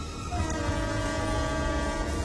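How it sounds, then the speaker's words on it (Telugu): A train rolls in close by with a steady rumble of wheels on rails, and its horn sounds throughout. "అరే ట్రైన్ వచ్చేసింది"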